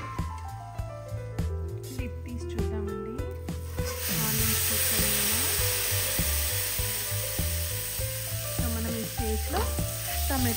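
Onions and tomatoes fry in oil for a fish curry, giving a steady close sizzle with scattered stirring scrapes and clicks of a utensil against the pan throughout.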